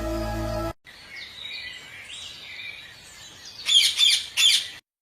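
A pet parrot's cartoon-style calls: a wavering chirping trill followed by two sharp, loud squawks close up, heard alone after a brief musical tone cuts off.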